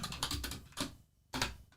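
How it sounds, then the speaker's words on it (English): Quick bursts of keystrokes clatter on a computer keyboard at close range, with a short pause before a final flurry of typing while coding. "you keep deleting the same thing you keep typing in"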